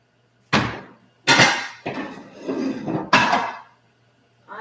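Pans and dishes clatter and bang loudly while being cleaned up after catering for twenty, five sharp metallic knocks with ringing tails in an uneven rhythm, close by and alone.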